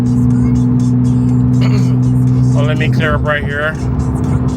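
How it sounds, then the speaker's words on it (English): A Porsche 911 fitted with a cheap Alibaba aftermarket exhaust cruises on the freeway in normal mode, a steady loud engine and exhaust drone with low hum throughout, under someone talking briefly. "I know y'all trying to hear that exhaust on the freeway."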